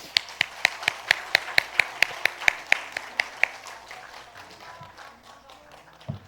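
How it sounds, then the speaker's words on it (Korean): Congregation at a Sunday service in a Korean Methodist church clapping together in slow, even, loud rhythmic beats, about fifteen distinct claps that then stop, leaving a quiet room. "우리 다시 한번 크게 박수해 주시기 바랍니다."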